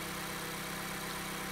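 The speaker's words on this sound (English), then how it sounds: "With the car started, everything sounds pretty much normal, so we're good to go to reassemble." A 2012 Mazda 3 with a 4-cylinder SkyActiv 2.0 engine idles just after a spark plug change, giving a steady, even hum for a short moment with no other sounds.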